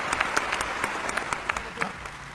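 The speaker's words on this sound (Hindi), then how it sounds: "अगली पंक्ति पर अगर महसूस हो जाए कि मैंने कुछ अच्छी बात कह दी है तो आपकी तालियां मिले।" Audience applause for a speaker's recited lines, a crowd clapping steadily with individual sharp claps standing out, continuous throughout and fairly close.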